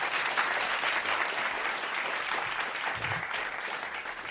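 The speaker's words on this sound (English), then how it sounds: "Used a different applause button." Canned applause triggered from a sound button on a show, a dense uniform burst of crowd clapping that stays fairly steady and fades slightly toward the end.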